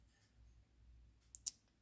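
A Shieldon multi-tool's saw blade snapping open gives two short, sharp clicks close together near the end, faint against an otherwise quiet room.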